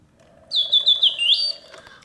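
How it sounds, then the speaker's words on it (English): Vintage Reuge singing bird cage automaton trilling a short chirping song, a run of warbling high whistled notes over a soft mechanical hum, close and clear, then stopping abruptly. "the bird sings with full voice, hitting all of the proper oscillating notes"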